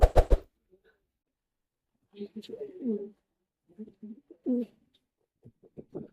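Black Shirtin fancy pigeons coo at close range in a few short, throaty phrases, after a brief burst of flapping or clattering at the start.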